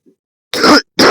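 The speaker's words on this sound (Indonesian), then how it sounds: "sorry ini tuh saya lagi batuk" A faint throat sound, then two short, harsh coughs in quick succession, close to the microphone, with silence between.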